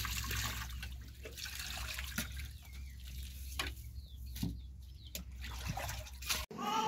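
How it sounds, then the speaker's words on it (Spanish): Hot water pours and splashes steadily at close range over a raw hen being washed, with trickling and occasional sharper spatters, stopping abruptly near the end. "le vamos a echar un poco de agua caliente"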